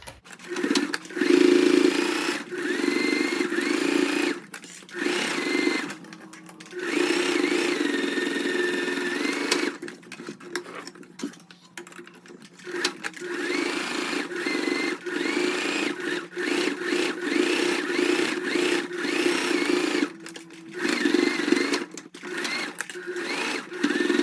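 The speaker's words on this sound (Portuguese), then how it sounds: "vou costurar até aqui embaixo, vou arrematar" A sewing machine stitches a fabric mesh beach bag in loud, steady bursts of rapid whirring, broken by short pauses between runs of stitching.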